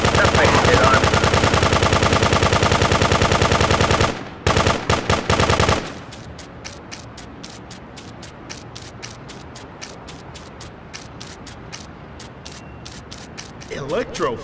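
Machine gun fire from the top-down GTA 2 video game sounds as a dense, loud, rapid burst lasting about four seconds, then a few short bursts, followed by quieter clattering game effects.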